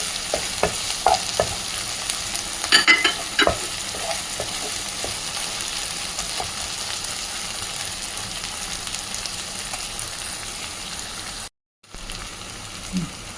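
Tomato pieces and onion fry in a pan with ginger-garlic paste for mutton liver curry, giving a steady close sizzle broken by scraping stirs, with a brief silent dropout near the end and no talking.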